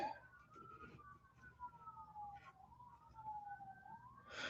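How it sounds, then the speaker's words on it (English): Faint wailing sirens rise and fall in the distance, several tones sliding up and down over a quiet background hum. "I don't know if you can hear the sirens in the background."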